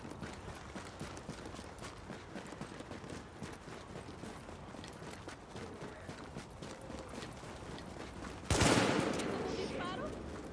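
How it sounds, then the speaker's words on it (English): Gunfire in The Division crackles as rapid, dense bursts of shots, steady through most of the clip, then one loud close blast near the end followed by a decaying roar. "And I hear shots like that."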